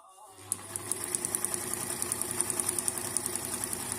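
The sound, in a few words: Brother Riviera 110 sewing machine stitching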